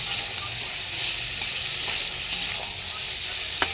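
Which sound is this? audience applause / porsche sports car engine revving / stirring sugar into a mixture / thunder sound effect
stirring sugar into a mixture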